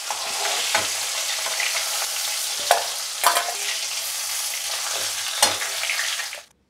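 A fish head fries in hot oil until reddish, making a dense, close sizzle with a few sharper crackles and stirring clinks before it cuts off abruptly.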